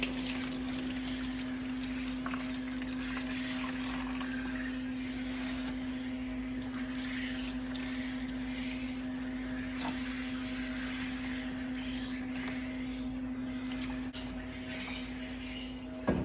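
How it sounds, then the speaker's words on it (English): Water is poured into a Little Giant egg incubator, a continuous soft trickle and splash that runs steadily over a constant low electrical hum, with no talking. "I'm going to dump a crap ton of water in here."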